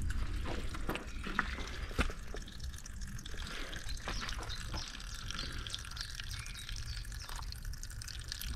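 Water trickles and drips into an old stone water trough on a countryside walk, a soft, steady gurgle with occasional louder drips, faint and close with no voices.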